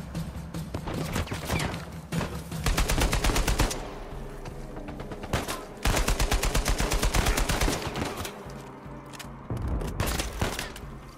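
Rapid bursts of automatic gunfire from Uncharted 4 rattle in repeated volleys, with short gaps between salvos and scattered single shots, loud and close throughout.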